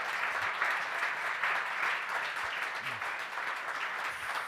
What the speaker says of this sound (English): join me in giving a round of applause to Dov Davidoff, Rikki Schlott, and Ernest O